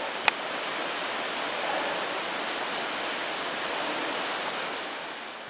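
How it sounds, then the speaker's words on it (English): A waterfall in a steep canyon on the Crispus Trail pours steadily, producing an even, unbroken rushing roar heard from a short distance with no voices and only a single brief tap near the start. "Couple waterfalls up this canyon."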